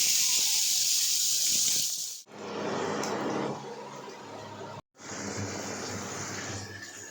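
Food frying in hot oil, a loud broadband hiss that cuts off abruptly twice and resumes, close and steady with no voices.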